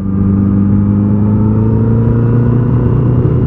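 Motorcycle cruising on an open road, a loud, steady engine drone with a constant low hum and rising pitch, heard close and alone without speech.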